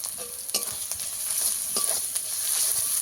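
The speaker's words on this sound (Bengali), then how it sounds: "পেঁয়াজটা আমি কিছুক্ষণ ভেজে নেব। পেঁয়াজে অল্প একটু লবণ দিয়ে দেবো।" Onions fry with a little salt in a hot pan, giving a continuous close hiss and sizzle with a few soft scrapes of stirring, no talking.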